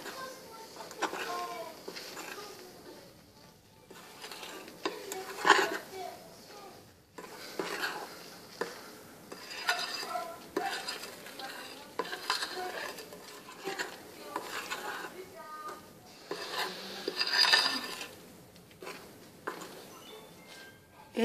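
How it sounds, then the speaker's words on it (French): A spatula gently folds beaten egg whites into marble cake batter in a bowl, with soft, quiet scraping and stirring strokes under intermittent talk. "Je suis encore en train de mélanger mes blancs en neige avec ma préparation tout doucement"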